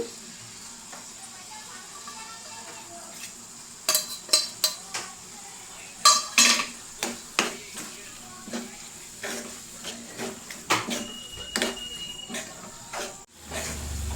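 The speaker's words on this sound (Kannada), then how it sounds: "ಆಮೇಲೆ ಇವಾಗ ಪನ್ನೀರ್ ಹಾಕ್ಬಿಡೋಣ" Paneer is added to a fenugreek-leaf gravy and stirred in a pan, with a low simmering sizzle under clustered spoon scrapes and clinks against the metal, sporadic and close.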